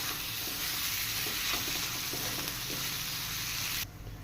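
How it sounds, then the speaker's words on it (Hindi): Boiled potatoes being mixed with spices in a pan, a steady sizzling and scraping stir that runs continuously before dropping away abruptly near the end. "तो आलू और मसला सब मिक्स करने।"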